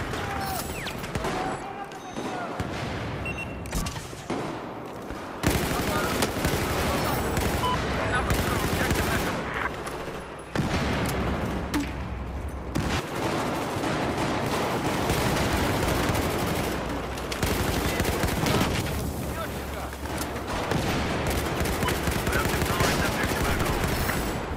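Sustained automatic rifle fire from an AUG in Battlefield 4, dense bursts running almost the whole time over a busy battlefield mix, with a voice talking in places.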